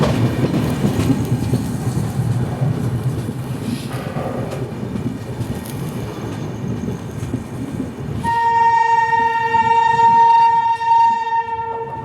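The Amritsar Nanded Sachkhand Express rumbling along the rails with clickety-clack, then a long loud horn blast sounding close for several seconds near the end.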